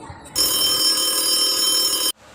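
An old telephone bell rings in a radio drama, a single sustained metallic trill that starts abruptly after a quiet moment, stays loud and even for close to two seconds, then cuts off sharply.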